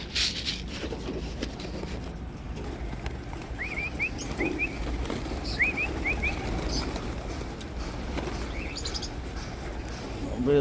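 Pigeons being fed lentils give a few short rising chirps and soft coos over steady outdoor background noise, while a person speaks nearby.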